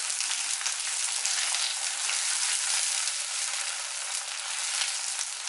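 Gooseberry pickle with chopped green chilies frying in a pan gives a steady, loud, even sizzle with no pauses, close up and free of voices.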